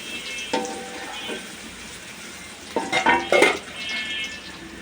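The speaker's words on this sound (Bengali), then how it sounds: "আমি অল্প একটু পেঁয়াজ আগে দিচ্ছি এটাকে বেরেস্তা করার জন্য।" A small handful of onions drops into hot oil for birista, giving a brief crackling hiss, then stirring clatters and a second sizzling burst against a steady background hiss.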